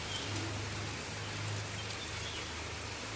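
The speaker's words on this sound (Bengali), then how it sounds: "কত জোরে জোরে বৃষ্টি হচ্ছে, এত জোরে জোরে বৃষ্টি হচ্ছে" Heavy winter rain pours steadily, a dense unbroken wash of hiss with a low hum beneath it, close and constant throughout.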